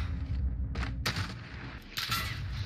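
Video game gunfire, a few sharp bursts of shots over a low rumbling background, fairly close and punchy, with no talk over it.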